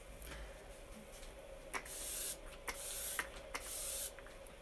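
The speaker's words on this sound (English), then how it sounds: "3 good sprays, one right down the center, one on each side" Touch Behold makeup setting spray is misted onto a face in three quick pump sprays, each a short airy hiss, close and soft over a quiet room.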